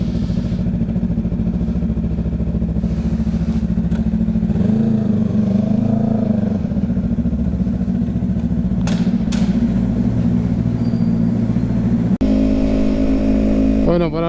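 A Yamaha MT-03 motorcycle with a new open exhaust idles loudly and steadily up close, with a couple of brief blips of revving midway and a rougher shift near the end, while someone talks over it.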